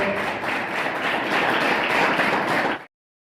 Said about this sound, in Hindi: एक बार जोरदार तालियों से सभी का स्वागत।